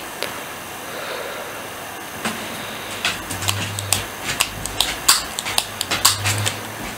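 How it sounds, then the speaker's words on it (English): A USB flash drive being fiddled with beside a PowerBook G4 laptop, giving a run of small, close plastic clicks and taps that grow busier toward the end over a faint background hum. "If you're wondering what that sound is, I'm playing around with my flash drive."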